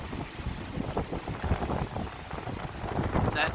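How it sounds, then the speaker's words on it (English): Strong wind gusting at 40 to 60 mph around an antenna mast, a continuous loud roaring buffet of microphone wind noise with irregular thumps, no pauses. "We have 55 to 60 mile an hour winds right now."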